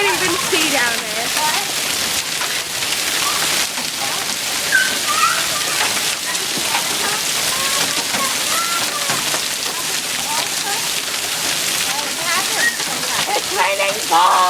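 Heavy hail of ice balls pours down outdoors, a dense continuous hiss and clatter of impacts and splashing, with excited voices talking over it throughout.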